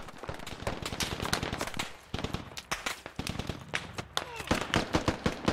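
Dense gunfire in the Squad tactical shooter, many overlapping shots and bursts at near and middle distance, steady and loud through the whole stretch, with voices talking over it.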